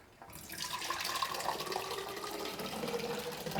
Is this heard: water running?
yes